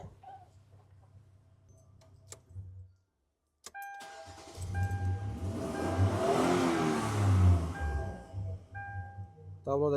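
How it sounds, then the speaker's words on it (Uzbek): A rebuilt engine in a Hyundai Starex van runs nearby, starting quietly, then settling into a steady idle that swells in the second half, with a brief silence early on and some clicking. "Motor ishlashlari ham bilinmaydi."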